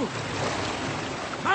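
Rough sea waves surge and wash continuously, mixed with wind buffeting in a broad, noisy roar, and a voice briefly breaks through at the end.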